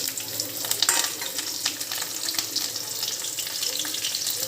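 Fennel, mustard seeds, green chili and curry leaves frying in oil, giving a steady close sizzle with scattered crackles and pops, without any talk.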